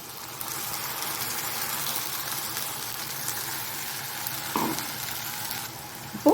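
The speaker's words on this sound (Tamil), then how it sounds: "இப்போது இது நல்லா வதங்கட்டும் நல்லா வெங்காயம் வந்து நல்லா கோல்டன் ப்ரௌன் ஆகட்டும்" Chopped onions fry in hot oil for a mushroom gravy, giving a steady, close sizzle that holds evenly throughout, with a short clatter near the middle and a sharper knock at the very end.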